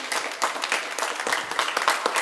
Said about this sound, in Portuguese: Vamos dar uma salva de palmas por todos os hinos cantados, leituras da Bíblia